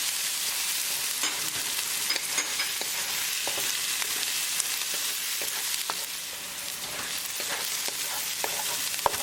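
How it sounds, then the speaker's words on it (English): Onion and green chili frying with a tadka make a continuous dense sizzle with scattered crackles as the pan is stirred, steady and close with no voices. "Cooking green chili along with tadka for 1 more minute."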